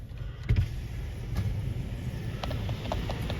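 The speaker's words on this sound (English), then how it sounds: "here comes the bus to White Plains" Bus heading to White Plains pulling up outside on a city street, a low rumbling motor with a brief louder thump and faint squeaks and clicks, heard from nearby with no talking.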